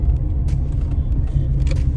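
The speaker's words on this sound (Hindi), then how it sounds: "इतना ट्रैफिक, वाह" Steady low rumble of a car engine and road noise from inside a moving vehicle in busy traffic, continuous and fairly loud, with faint higher hiss from passing vehicles.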